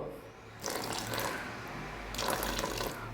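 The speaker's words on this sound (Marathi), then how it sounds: "पाणी टाकायचं आहे, थोडं थोडं टाका, नाही तर काय खूप पातळ होईल बॅटर." Water pours in a quiet steady stream into besan batter for a healthy breakfast, rising in two bursts with a short pause between, close and alone without talk.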